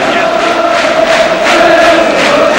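A football crowd fills Orient's stadium in the sunshine before kickoff of Orient against Manchester United at the start of the 1974 second division season. A broad, steady murmur of distant voices carries a faint rhythmic swell of chanting.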